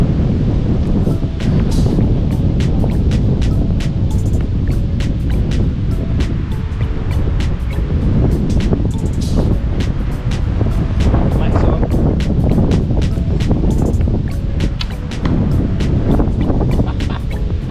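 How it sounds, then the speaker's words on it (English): Strong wind buffets the microphone in a constant low roar with gusty thumps, loud and close throughout, with muffled voices faintly under it. "It's very windy here today."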